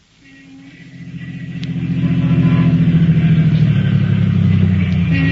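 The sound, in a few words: car pulling to a stop, radio drama effect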